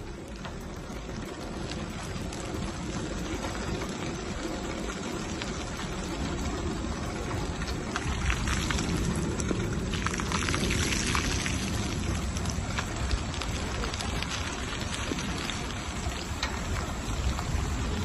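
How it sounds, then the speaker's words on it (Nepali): Heavy rain pours down steadily outdoors in South Korea, a dense, continuous hiss and patter that holds at an even loudness throughout. "पानी पर्यो पर्यो पर्यो झन्झन पर्यो"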